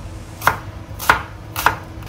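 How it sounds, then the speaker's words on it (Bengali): Three sharp, evenly spaced knife strikes land on a cutting board as an onion is chopped, close and clear against quiet background hum. "ঢ্যাঁড়সের জন্য আমি এখন একটা পেঁয়াজ কেটে নিব"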